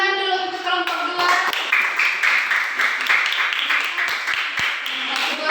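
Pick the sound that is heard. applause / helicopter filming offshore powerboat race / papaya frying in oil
applause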